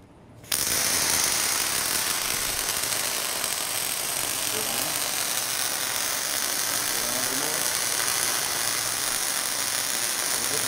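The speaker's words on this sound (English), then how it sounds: "Recording's always live, so whenever Colby welds, it will record" Welding starts abruptly after a brief quiet moment, then holds as a loud, steady crackling hiss that continues unbroken to the end.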